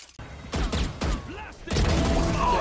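Heavy gun fire in the Valorant shooter, a few loud booming shots spaced about half a second apart, followed by a longer sustained burst of noisy gameplay sound.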